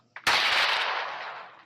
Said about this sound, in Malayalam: വെടിവെപ്പ് തുടങ്ങിയ കൊള്ളാം